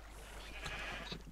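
Sheep bleat faintly in the Minecraft video game, a short wavering call over a low steady hum, with no talk.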